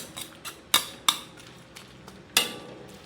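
A utensil clinks against the side of a pot several times in an uneven rhythm while Filipino bopis is stirred as it boils, with no speech.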